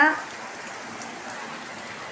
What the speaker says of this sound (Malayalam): അപ്പൊ ഇതേ പുറത്ത് നല്ല മഴ